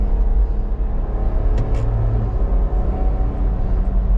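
A 2024 Ineos Grenadier with 282 horsepower accelerates in sport mode, its engine a steady, loud, low rumble with road drone throughout, heard from inside the cabin.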